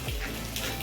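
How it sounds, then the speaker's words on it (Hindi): Water runs from above over hands being washed, a brief close splashing rush of tap flow. "हाथ धो रहा है, ऊपर से पानी आ रहा ना"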